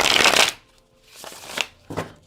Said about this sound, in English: They really do shuffle quite nicely.